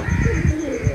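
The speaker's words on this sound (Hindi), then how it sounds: "ऊपर वो कबूतर बैठा हुआ है" Low, soft pigeon cooing close by, a brief throaty warble over a faint background hum.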